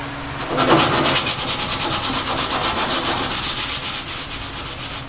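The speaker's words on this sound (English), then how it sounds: "I'm just going to do it by hand, 80 grit." Coarse 80 grit sandpaper is worked by hand over a rusty surface, producing loud, rhythmic back-and-forth rasping strokes, about four per second, sustained without pause.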